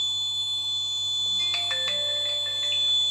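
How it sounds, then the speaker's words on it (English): A short electronic notification chime sounds from a phone alerted by an Arduino GSM gas leakage detector, a few bright tonal pings over a steady electrical hum, with no voices. "SMS alert notification received."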